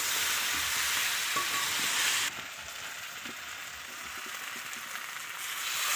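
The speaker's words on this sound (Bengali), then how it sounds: "তো এটাকে দিয়ে এবার ভালো করে মিক্সড করবে, মানে ভেজে নেবে আর কি।" Spiced potatoes stir-frying in a hot pan give a steady, close hiss of sizzling oil with soft scraping stirs, a bit quieter after a brief shift partway through, and no voices.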